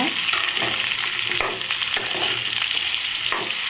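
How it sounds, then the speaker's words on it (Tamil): Raw mango pieces sauté in a hot pan, a dense, steady sizzle broken by repeated scraping stirs of a spoon against the pan, close and loud with no talking. "மாங்காய் நல்லா சேர்த்தாச்சு சேர்த்து நல்லா வதக்கிக்கோங்க"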